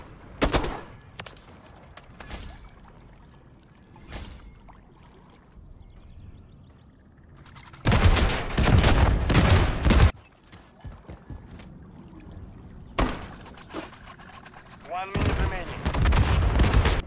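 Gunfire in Modern Warfare III on the Sub Base map, with scattered single shots and then dense bursts of automatic fire, loud and close, alongside sporadic in-game noise.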